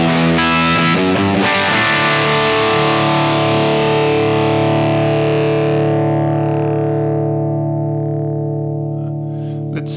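A distorted Marshall-style amp simulation with delay turned up lets a few struck chords bloom into a long, loud sustained ring that slowly fades, with echoing trails and no talking.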